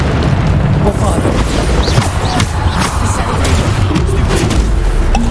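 Booming spell explosions from a Bombarda cast in the video game Hogwarts Legacy, loud and dense, with continuous battle rumble and crackling effects throughout and a voice speaking over the action.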